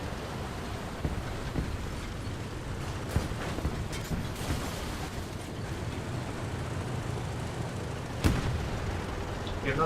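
Tank cannon fire in War Thunder, heavy booming shots against a constant rumble of engine and battlefield noise, with one sharper, louder blast standing out near the end.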